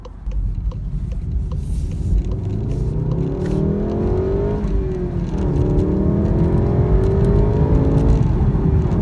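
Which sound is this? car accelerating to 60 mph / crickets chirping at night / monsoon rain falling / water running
car accelerating to 60 mph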